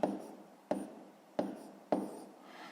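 Pen strokes on paper during a 5th-grade maths exercise, four distinct scratchy bursts spaced evenly, each starting sharply then trailing off, close and fairly quiet with no talk.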